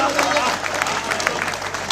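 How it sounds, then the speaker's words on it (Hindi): Crowd at a Hindi comic poetry recital in Gonda claps in a brief, steady burst, with murmuring voices mixed in. "तालियां बढ़िया"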